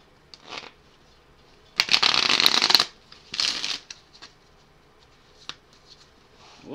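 Onirim cards being shuffled at a table: a few short riffles, then one long loud shuffle of about a second and a second burst after it, with faint card handling and taps around them.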